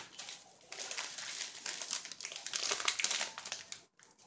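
Bubble wrap from an LG Stylo 4 phone package crinkles and rustles up close in a continuous flurry of crackly handling noise, fairly quiet, ending with a short pause.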